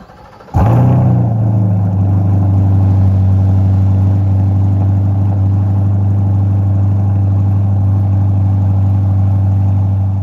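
A Chevrolet Corvette C8 engine starts with a sharp catch and settles into a loud, steady idle rumble that holds evenly for about ten seconds, with no talking.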